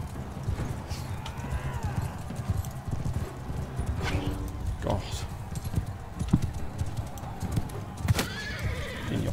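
Rhythmic hoofbeats of a galloping horse with repeated whinnies in Mount and Blade 2: Bannerlord, during a tournament, while a person talks over the action.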